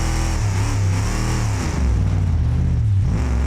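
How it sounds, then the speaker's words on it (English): A car engine in BeamNG.drive growls and revs through big exhaust pipes, a loud, close, continuous rumble with rising and falling pitch swells. "at least the engine sounds cool from the,"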